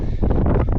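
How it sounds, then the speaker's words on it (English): Strong gusts buffet the microphone on an exposed mountain peak in the Brecon Beacons, a loud, rough roar that rises and falls without a break. "Wind's probably too strong for me to do a painting up here as well."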